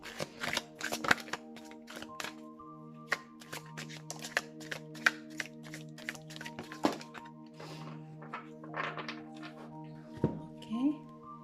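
Oracle cards being shuffled by hand in a pick-a-card reading, with quick crisp riffles and taps repeating in bursts over steady background music, up close and moderately loud.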